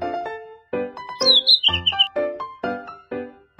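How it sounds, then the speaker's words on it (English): A bright, twittering bird chirp from a children's hearing test game rises briefly above cheerful background game music, a quick run of high chirps in the middle of the passage. "Bird."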